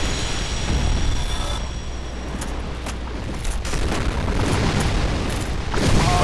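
Enemies fire explosive projectiles in the video game Dark Souls, producing dense, rumbling booms and bursts that overlap into a continuous loud barrage with sharper hits scattered through it.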